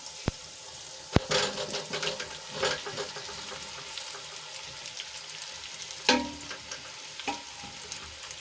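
Cut methi muthiya dumplings hit a hot tempering of green chillies and asafoetida in a pan, with a sharp clatter as they go in, then close, steady frying hiss and stirring scrapes, and another burst of clatter later.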